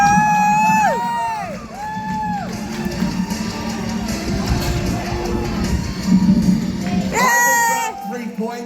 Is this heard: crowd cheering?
yes